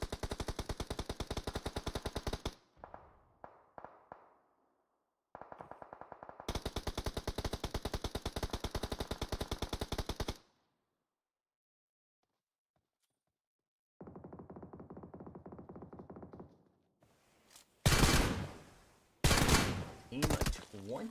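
Rapid automatic gunfire in the battle-royale game PUBG Mobile during a scrimmage match, loud bursts of machine-gun fire broken by silent gaps and sharper single shots near the end, with no talk.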